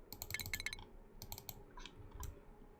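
Computer keyboard keys being typed on, quiet scattered clicks in short bursts with gaps between them, faint and close.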